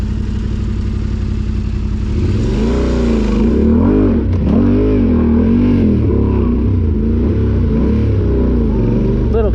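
Dirt bike engine on a wooded singletrack trail, revving loudly and close with rising and falling pitch sweeps as the clutch is dumped, a continuous buzzing drone throughout.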